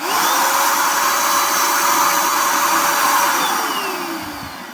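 A LEADER Lite BD20-SL1 cordless paint sprayer runs alone with a steady, loud motor whine that holds evenly and then fades slightly toward the end.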